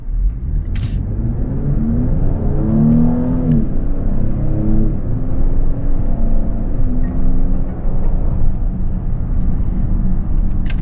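A 2026 Lincoln Aviator Reserve SUV accelerates under paddle shifting, its engine rumbling and climbing in pitch through rising, stepped gear changes, heard steadily from inside the cabin with no talking.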